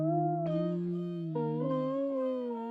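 Chopped vocal texture pitched back up with no effects, sustained sung tones shifting in pitch across a few short held notes, clean and fairly quiet.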